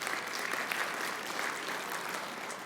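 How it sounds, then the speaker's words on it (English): An audience at a civic welcome event applauds continuously, an even, moderately faint wash of many hands clapping with no break or voices standing out. "Let's give them a round of applause, please."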